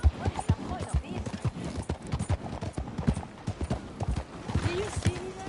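Horse hooves clip-clop in a steady, rhythmic trot inside a PS4 video game, fairly close and clear, with voices talking over the galloping.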